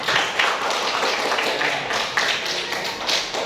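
Class claps hands together at the end of a lesson: brisk, dense handclapping from a group close by, steady and fairly loud throughout.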